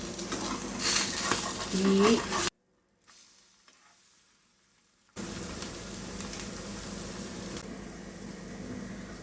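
A half-boiled egg omelette fries in a pan with a bright, steady sizzle, a short spoken word near the start, then a sudden drop to near silence for a few seconds before the sizzle returns just as strong.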